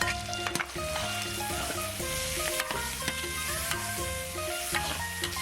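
Spices and pickled peppers stir-fried in hot lard in a wok for spicy chicken offal, with a steady loud sizzle and scraping spatula strokes throughout.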